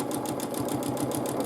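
A quilt being machine-quilted: rapid, regular needle strokes from a sewing machine, close and steady over a continuous motor whir.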